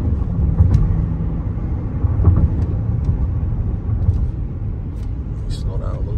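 A 2022 Jeep Grand Wagoneer Series III with the 6.4 engine accelerating hard: a steady low rumble of engine and road noise heard from inside the cabin, holding fairly constant, with a person talking over it.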